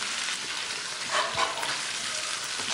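Boiled squid fries in spice paste in a hot pan, a dense steady sizzle up close with a couple of stronger stirring swells in the middle; nobody speaks.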